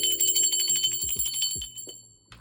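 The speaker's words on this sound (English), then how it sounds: "I'm going to ring the bell for my spirit guides, guardian angels, and ancestors" A ritual bell rung to call spirit guides, guardian angels and ancestors, several bright ringing strikes with shimmering, sustained metallic overtones that slowly fade, fairly close, no talking.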